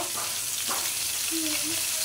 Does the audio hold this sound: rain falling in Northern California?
no